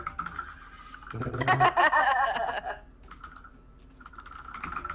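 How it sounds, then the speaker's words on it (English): Computer keyboard typing from players in an online tabletop game session, a dense loud burst of keystrokes in the middle flanked by lighter tapping, with a brief chuckle mixed in. "I hear really small typing and one really angry typing."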